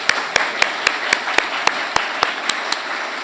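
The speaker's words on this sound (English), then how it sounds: "Clap, everyone." Audience in a conference talk clapping in a slow, evenly spaced rhythm, about a dozen distinct sharp claps over faint room noise.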